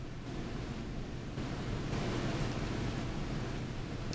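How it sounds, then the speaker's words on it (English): Distilled water rinses excess dye off a Gram-stained microscope slide in a steady, even hiss that runs unbroken from start to finish with no talking. "now Jason is going to rinse with distilled water to remove the excess dye"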